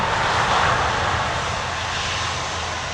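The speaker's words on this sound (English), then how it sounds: "Just a plain Jane Finnair A350." A Finnair Airbus A350 jet at Amsterdam Schiphol gives a steady, fairly loud engine rumble and rushing roar that eases slightly toward the end.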